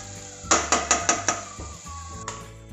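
A spoon clinks sharply against a bowl while turmeric is mixed into mayonnaise: five quick, evenly spaced metallic taps, then a pause and one more clink later, close and fairly clear.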